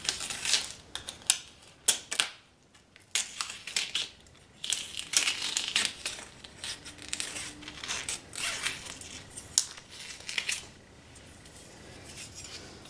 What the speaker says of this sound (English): I just gotta cut the tape.